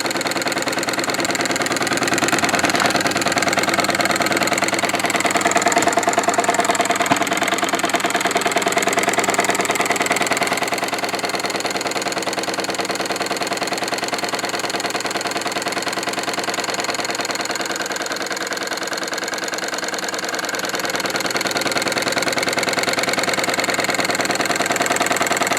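A Wilesco D-18 mini steam engine with a dynamo running steadily on live steam, giving a close, continuous mechanical whir and rapid rhythmic chuffing at an even speed.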